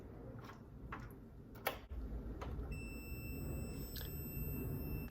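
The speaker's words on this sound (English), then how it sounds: "There's a beep, there's continuity." A multimeter continuity test: a thin, steady electronic beep starts partway through and holds, faint beneath a few light clicks and taps, while testing a microwave door switch.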